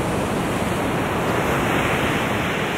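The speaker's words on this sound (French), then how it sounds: "vous allez bien m'entendre avec les bruits de vagues." Ocean waves breaking on Sand Beach in Acadia, a steady, loud wash of surf that fills the whole stretch with continuous broadband roar and no gaps, with no voices present.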